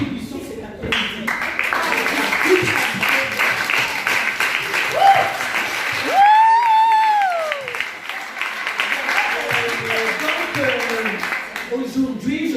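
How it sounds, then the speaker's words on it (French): An audience at a women's community gathering applauds both older and younger participants, a sustained round of clapping mixed with crowd voices and a brief whoop or cheer partway through. "on peut applaudir les moins jeunes et les plus jeunes"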